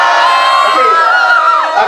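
A crowd at a cosplay competition during a movie premiere fan event screams and cheers together, a loud, close, sustained roar of many high voices with whoops rising and falling throughout.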